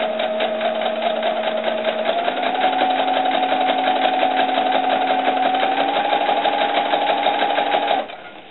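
A sewing machine runs steadily while stitching a doll sun dress, a fast even mechanical whir with rapid needle ticks lasting about eight seconds before stopping abruptly.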